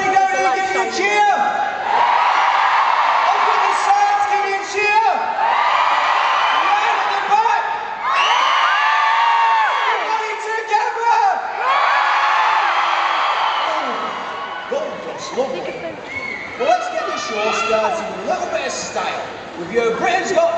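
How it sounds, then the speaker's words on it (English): A large crowd at a Britain's Got Talent live tour show in Cardiff cheers and whoops loudly, a sustained roar with shouts rising over it, fading and returning in waves; a voice calls out over the noise. "Everybody down here, give me a cheer."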